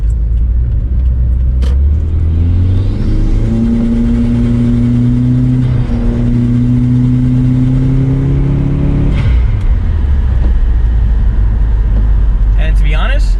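A Subaru WRX with a CVT and a Perrin pitch stop mount, accelerating under moderate throttle: a steady mid-range engine drone rising smoothly in pitch for several seconds, then dropping back, heard from inside the cabin with light talk over it.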